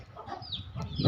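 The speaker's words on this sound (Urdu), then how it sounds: "یہ مرغا بھی بہت پیارا مرغا ہے یہ والا ماشاءاللہ، دیکھیں کیسے بول رہا ہے" A rooster kept among pet birds gives a short burst of clucking calls, close and moderately loud, rising to a stronger squawk at the end.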